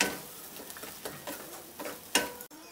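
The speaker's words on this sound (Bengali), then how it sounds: "এটাকে আমি মিডিয়াম ফ্লেমে নাড়ছি।" Mashed green peas are stirred in a pan over a medium flame, with soft rhythmic scraping and faint sizzling ticks repeating steadily, then a brief louder scrape near the end.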